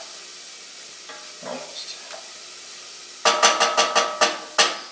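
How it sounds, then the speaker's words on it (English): Spices sautéing for mole in a pan, a quiet sizzle at first, then a run of sharp, loud sizzling bursts as they are stirred, with one brief spoken word. "Now we still want to kind of saute, roast, whatever you want to call it, these spices"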